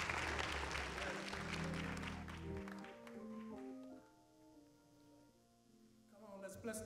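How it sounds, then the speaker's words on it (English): Congregation clapping for a pastor at a church convocation: brisk clapping that is strongest at the start and fades under organ chords and a voice, with a brief swell of sound at the end. "Would you clap your hands for him as he comes, Pastor Gilder?"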